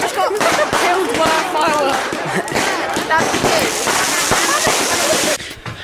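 Fireworks going off on a fireworks night, a dense continuous crackle and popping bursts with whistling streaks, loud and close, ending abruptly near the end, with voices chattering underneath.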